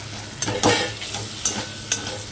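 Mushroom masala sautéing in a covered pan, with a soft continuous sizzle broken by several distinct scraping stirs of a spatula, close and fairly quiet, no voices.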